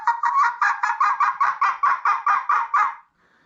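A wild turkey hen gives a fly-down cackle as she leaves the roost: about a dozen rapid, clucking notes in an uneven, accelerating burst, clear and fairly close, ending abruptly.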